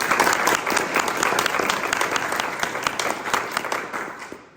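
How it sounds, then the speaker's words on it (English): An audience at an arts talk breaks into applause, many hands clapping in a loud, dense burst that holds steady and then tapers off toward the end. "So let's give all of them a round of applause."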